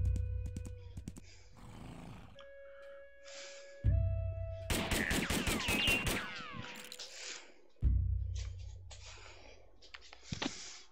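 Bursts of gunfire crack out in sharp, loud volleys, separated by quiet gaps, with a roaring rush in the middle and scattered clicks, close and without talk.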